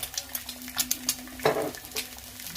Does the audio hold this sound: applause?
no